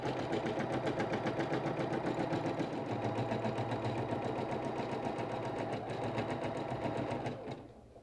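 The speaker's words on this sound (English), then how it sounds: "And I'm going to let it finish sewing out that tack for me." An embroidery machine sews out a tack with a fast, steady mechanical needle rattle and motor hum for several seconds, close and continuous, then winds down and stops near the end.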